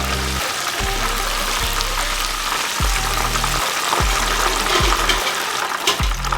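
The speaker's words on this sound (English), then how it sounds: "Gently place them in there. And cook. You want to fry this till it's golden brown or 5 to 7 minutes." Chicken pieces for classic orange chicken deep-frying in hot oil on a stovetop: a loud, steady, close sizzling and bubbling that runs throughout, with no talk.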